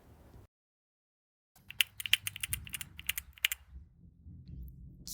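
Repeated clicks from a mechanical keyboard switch fidget toy, Alt-F model, in a quick irregular burst of crisp, close taps after a short silence.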